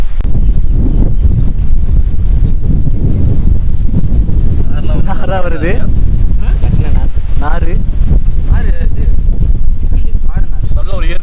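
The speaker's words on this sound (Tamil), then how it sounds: "நல்ல ஒரு இயற்கையான காற்று, அழகான காற்று" Natural outdoor wind buffets the microphone with a steady low roar during an outdoor clay-cooked chicken meal, while people talk over it throughout.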